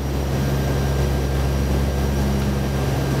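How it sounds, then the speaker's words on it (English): A fixed-wing airplane taking off above Greenland, heard from the cockpit as a steady, loud engine drone and hum with constant tonal whine and no voices. "That was takeoff."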